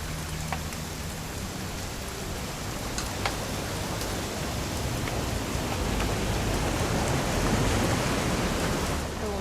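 Steady rain in the video game What Remains of Edith Finch pours down in a dense, even hiss with scattered drop ticks, rising slightly louder toward the end; no voices.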